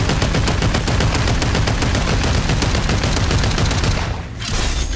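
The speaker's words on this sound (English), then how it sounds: "Yeah, now he's getting shot at." Sustained rapid automatic gunfire in the VR shooter Population One, a loud, dense stream of shots that briefly dips near the end before resuming.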